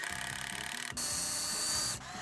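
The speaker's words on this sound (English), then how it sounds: "You want to take a drill gun and pre-drill that." A handheld power drill pre-drills pilot holes in wooden boards for a standing rolling planter, giving a steady whirring motor whine with a brief pause between two short runs, close and fairly quiet.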